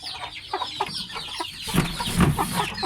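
Pet chickens cluck close by in a backyard coop, a run of soft, repeated clucks that grows busier and louder toward the end.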